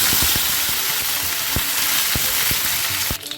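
Three or four dried red chillies and curry leaves fry in hot oil, giving a loud crackling sizzle with sharp intermittent spatula taps against the pan, the sound dropping away just at the end.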